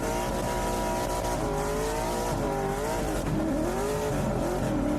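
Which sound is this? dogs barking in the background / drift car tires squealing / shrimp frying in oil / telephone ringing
drift car tires squealing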